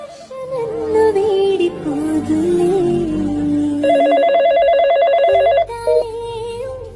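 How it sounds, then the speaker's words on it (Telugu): Dramatic background music gives way to a telephone ringing, a rapid electronic trill repeating loudly for a couple of seconds before stopping. "ఫోన్ రింగ్ అవుతుంది వీళ్ళు."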